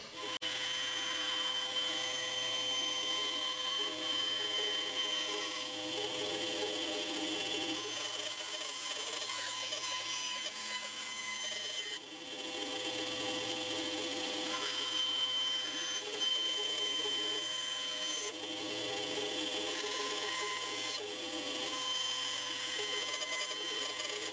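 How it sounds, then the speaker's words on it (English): A guitar headstock being roughly cut around and then sanded down during a community guitar build: a continuous close rasping and scraping of wood that runs steadily throughout with no talking. "I'll cut round that roughly and then I can just sand it down"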